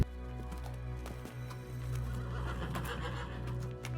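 Horse in rural Kyrgyzstan neighing in a series of whinnies at moderate distance, with faint clip-clop of hooves and light outdoor background, no talking.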